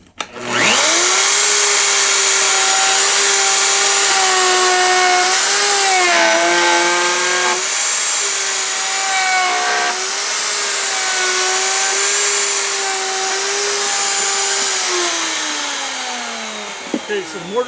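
A router on a PantoRoute jig cuts a mortise in wood with no dust collection, a loud steady high whine that dips and shifts in pitch as the bit sweeps through the cut, running nearly nonstop for the whole stretch before winding down.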